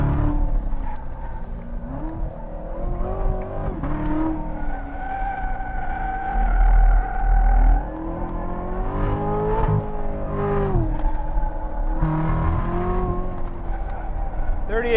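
A Chevrolet Corvette C7 Z06 lapping a race track, engine loud and close as it revs up and drops through downshifts, with tire squeal while it struggles for traction and a driver talking over the noise.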